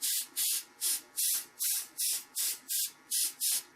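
An airbrush sprays paint in about ten short, evenly spaced bursts of bright, airy hiss, close and steady, with brief pauses between each pass while detailing a psycho clown design.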